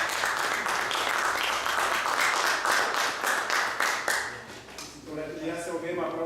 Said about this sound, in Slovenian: Tako da en aplavz za...